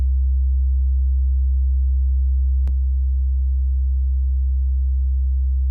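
A steady low sine tone runs through a free analog-style compressor plugin with only two knobs, holding a constant loud hum with a brief click partway through, after which the tone continues slightly changed.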